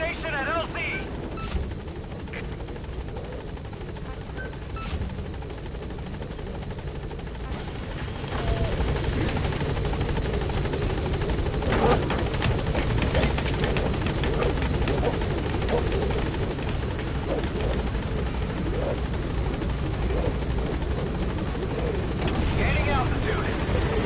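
The Pequod helicopter arrives in Metal Gear Solid V, its rotor a continuous whirring drone that grows louder partway through, with radio chatter and scattered game effects on top.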